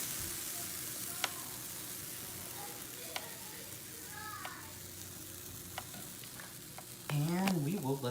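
Whole oat pancake batter cooking in a pan, a steady soft sizzle running throughout with a few faint clicks, then a voice speaking briefly near the end.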